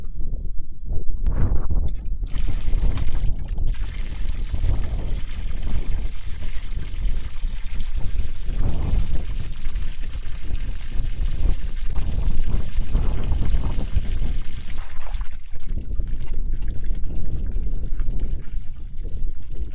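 Water draining from a 7-8 foot tank, a steady loud continuous rushing pour with no letup for the whole stretch.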